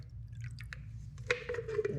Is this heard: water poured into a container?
yes